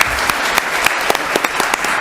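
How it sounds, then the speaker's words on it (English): Audience applause at a school committee meeting honoring a coach's city championship win, steady dense clapping filling the whole stretch with a few sharper individual claps standing out. "worthy of a round of applause"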